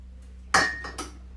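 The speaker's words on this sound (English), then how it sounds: "I'm just trying to make a cup of tea while I'm doing this" In a home kitchen while tea is made, a single clear metallic clink of dishes rings out with a short ringing tail, followed by a softer second tap, both close against a low steady hum.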